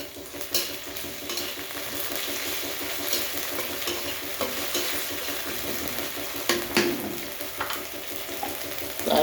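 Garlic and ginger paste frying with onions in a pan, a steady close sizzle with stirring scrapes and occasional utensil knocks running throughout.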